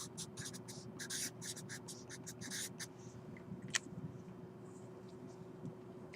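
Marker or chalk strokes scratch across a board in a quick burst of short taps and scrapes during the first three seconds, then fade to quiet room tone with a single sharp tick.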